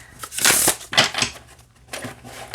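Oracle card deck by M.J. Cullinane being shuffled by hand, close up: a few bursts of riffling, papery card noise, loudest at the start and trailing off into softer flutters, no talk.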